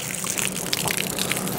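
Water gushes steadily from a garden hose, a continuous close splashing rush with no pauses over the short span.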